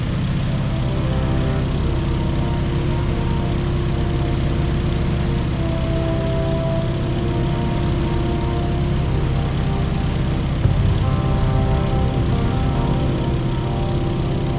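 A Stearman biplane's propeller engine drones steadily at high volume in a flight game, a continuous even roar with no talk over it.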